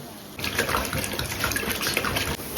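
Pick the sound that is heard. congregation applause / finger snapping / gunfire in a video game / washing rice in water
washing rice in water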